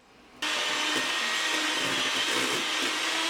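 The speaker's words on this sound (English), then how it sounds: "I like to cut out most of the mixing, especially given the fact this is a metal bowl and it's gonna be pretty loud" An electric mixer whips foaming bath butter in a metal bowl: after a short quiet moment, a loud, steady whirring roar kicks in abruptly and holds close and constant to the end.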